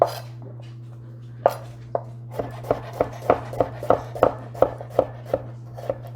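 A knife chops vegetables for a late summer minestrone into bite-sized half moons, about a dozen close, crisp chops on a board in a steady rhythm, with no talking.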